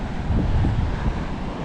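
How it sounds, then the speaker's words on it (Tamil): Strong wind roars across the microphone on a black-stone beach at Little Andaman, a steady, dense low-frequency buffeting that fills the whole moment without pause. "காற்று பயங்கரமாக அடிச்சிட்ருக்கு"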